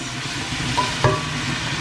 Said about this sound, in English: And so the prawns are still frying